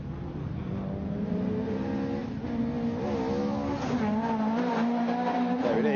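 A two-wheel-drive rally car on a Goodwood SpeedWeek super special stage revs hard near a tunnel, its engine note rising and falling under a steady, loud roar, with tyre squeal blending into the sound throughout.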